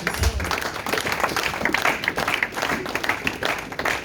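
A church congregation claps steadily for Jesus, with dense, continuous applause that rises at the start and then holds a lively patter throughout. The room sounds full and close.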